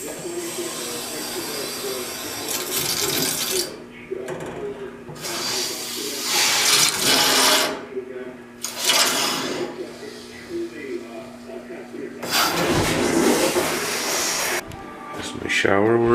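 A newly plumbed basement shower runs in hissing bursts of spraying water that stop and start, with a person talking in between.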